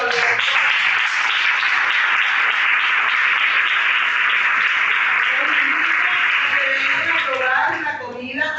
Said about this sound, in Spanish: vamos a darle un aplauso a Víctor, siempre solidario